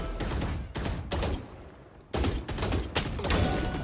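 Gunfire in GTA roleplay, dense overlapping volleys of rapid shots that stay loud and close throughout, with brief dips between bursts and no clear talk over them.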